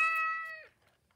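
An Elephant Robotics Metacat Version 2.0 robotic pet cat lets out a single clear, tonal electronic meow lasting about half a second, close and fairly loud, then falls silent.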